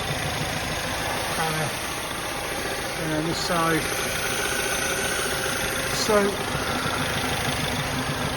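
A car engine idles with a steady low hum throughout, while someone talks over it close by.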